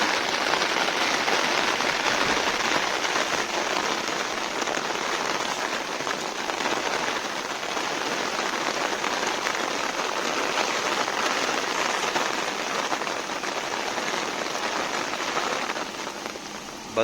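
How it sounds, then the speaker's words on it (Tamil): Heavy rain pours down steadily and loudly at a roadside fuel stop, a dense unbroken hiss of drops on surfaces lasting throughout, with no speech. "மழை அந்தளவுக்கு மழை"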